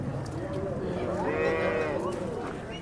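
Holstein Friesian (HF) cows moo repeatedly at a busy cattle market in Sangola, Maharashtra, with long, loud calls rising over a steady crowd murmur.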